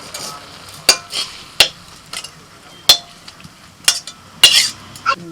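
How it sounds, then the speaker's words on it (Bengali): Lentil dumplings (dal bori) fry in hot oil under a light sizzle, while a spatula clanks sharply against the pan in repeated loud, irregular hits. "ডালের বড়ি ভেজে নিচ্ছি তেলের মধ্যে"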